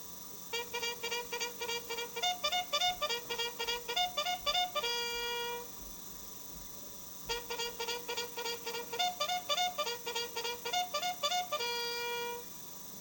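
A bright bugle battle call plays a quick rhythmic tune of repeated notes, ending on a held tone, then the whole call repeats a second time.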